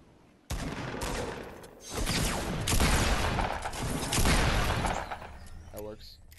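Shotguns fire in a Fortnite match as a burst of loud, overlapping blasts erupts suddenly, rolling through several seconds of heavy gunfire before fading out.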